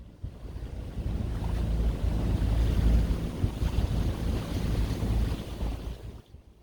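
The sailing vessel moves at sea in the Caribbean, with steady wind buffeting the microphone over the rush and wash of waves against the hull, a loud, continuous roar with no voices.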